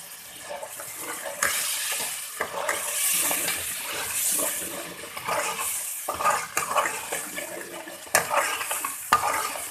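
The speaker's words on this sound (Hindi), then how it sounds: "अब इसमें थोड़ा सा पानी डाल देंगे।" Water poured into frying ground spices (coriander powder, turmeric and chili) for a lentil dumpling curry, giving a loud hissing sizzle with splashing and stirring that swell and fade in bursts, close and without talk.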